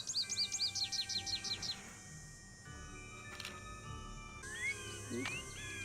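Birds chirping in the Nancy Drew: Ghost Dogs of Moon Lake video game: a fast run of bright tweets opens, then quieter scattered calls and a rising whistle near the end, with a faint electronic hum underneath.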